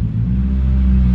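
A 2000 Toyota Celica GT-S with part of its exhaust ripped off drones close by with a loud, raspy rumble, a brief burst of gruff exhaust noise with a heavy low-end growl.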